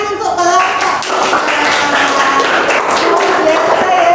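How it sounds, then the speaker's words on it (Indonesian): A physics class applauds a student group, with a burst of hand claps, a scattered patter of individual hands, and voices mixed in. "Beri tepuk tangan untuk kelompok."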